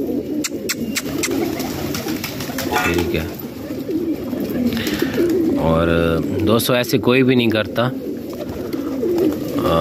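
Pigeons coo loudly and close in a loft as someone talks over them, the throaty warbling coos rising in the second half amid rustling and flutter.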